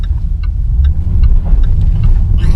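Jaguar XF S pulling away under power, a deep throbbing engine rumble that builds steadily and sits close and loud, with faint ticking over it and no talk.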